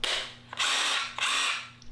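Festool DWC 18 cordless 18V drywall screwdriver whirring in three close, loud bursts, each spin-up starting and stopping sharply with brief quiet gaps between, no talking.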